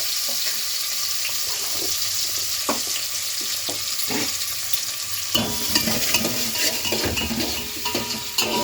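Onions tossed into oil after mustard seeds have popped, for a potato curry, giving a steady crackling sizzle with light stirring knocks that swells louder and denser halfway through.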